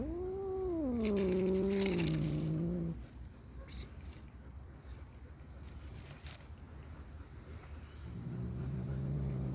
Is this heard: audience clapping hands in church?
no